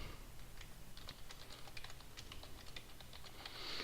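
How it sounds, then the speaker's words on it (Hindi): Quick, light tapping on a computer keyboard while writing in MS Word, a steady irregular patter of close keystrokes with no talking. "आप इधर कोई भी चीज़ टाइप करते हैं"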